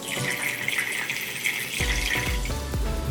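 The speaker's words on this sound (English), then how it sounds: "It is water in here." Water gushing and splashing out of a squishy toy that has just been snipped open, loud and close, with a steady running pour and a few drips.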